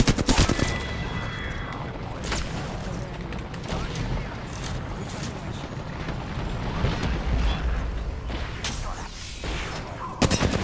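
Sustained gunfire in the Apex Legends battle royale, a dense run of shots and bursts through nearly the whole stretch, loud and close, with sharp heavier blasts at the start and end and speech picked up faintly underneath.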